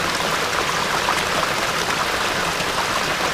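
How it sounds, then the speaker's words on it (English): Water bubbles and splashes over rocks in a natural stream, a constant bright burble with scattered droplet splashes, close and fairly loud with no one talking. "The beautiful water, hearing the sound, and the bubbling"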